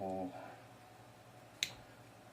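A bearing and axle snap into the knuckle of a Tamiya LaFerrari TB04 model car, one sharp click standing alone in a quiet room after a brief voice at the start.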